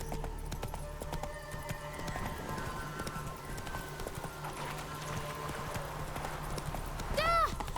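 Horse Roach galloping in The Witcher 3: Wild Hunt, a steady rhythmic clip-clop of hooves throughout, moderately close, with game music and sounds layered in and a brief whinny-like tone near the end.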